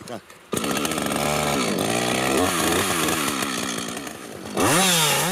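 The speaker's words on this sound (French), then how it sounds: "Pour mettre la tronçonneuse en marche, il faut la bloquer entre les jambes." A woodcutter's chainsaw, held between the legs for starting while clearing around a fir tree in a forest, bursts into life, runs loud and close with wavering revs, then surges in a sharp rev at the end.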